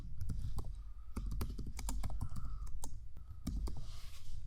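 Keys clatter on a computer keyboard as text is typed into a Google Docs text box, a close, busy run of uneven clicks lasting several seconds with no voices.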